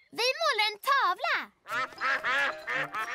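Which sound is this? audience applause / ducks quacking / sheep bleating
ducks quacking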